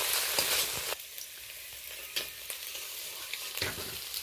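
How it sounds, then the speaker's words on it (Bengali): Shrimp and ginger paste frying in a pan while being stirred, a soft sizzle broken by scraping strokes and a few sharp clatters, close and fairly quiet, with no voices. "আদা বাটাটা দেওয়ার পরে এটা বেশ ভালো করে নেড়ে চেড়ে নেব 2-4 সেকেন্ড ধরে"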